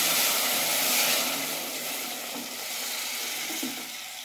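Tomato juice poured over onion and garlic frying in a pan, a loud, close, steady sizzle that swells and then settles into continuous crackling hiss, with no talking.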